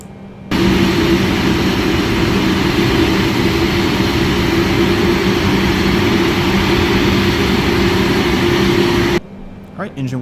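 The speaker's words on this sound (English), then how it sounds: "Alright, giving fuel to engine 1." A Boeing 747-8F jet engine starting up in Microsoft Flight Simulator, a loud steady whine and roar that switches on abruptly and holds constant for several seconds before cutting off.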